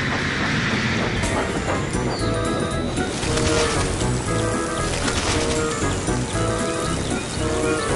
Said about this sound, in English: Help your engine cool their pistons with a refreshing wash at the steamworks.